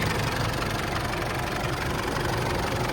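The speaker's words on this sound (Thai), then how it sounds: "เครื่องยนต์ทำงาน เรียบๆเดินนิ่งๆไม่มีแกว่งไม่มีเสียงเขตนะฮะ" A 2013 Isuzu D-Max 2.5 DDi VGS manual pickup diesel engine idles steadily, a dense, even rumble with faint knocking texture and no change in pace.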